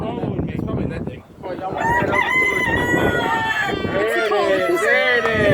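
A farm chicken crows loudly and clucks close by, its calls overlapping with people talking around it.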